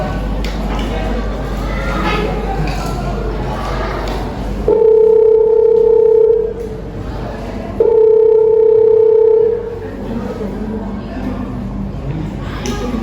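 A telephone dial tone sounds while a call is placed in a high school drama: two long, steady electronic tones, each lasting about a second and a half, with talk and room noise before and after.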